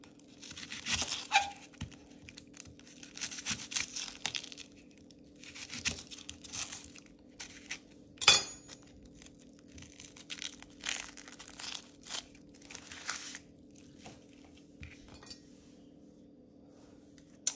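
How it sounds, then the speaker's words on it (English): A knife chops a small onion on a cutting board, with irregular crisp crunching cuts and a few sharp taps against the board, quiet and close with no talking. "Next, I'm gonna cut my 1 small onion."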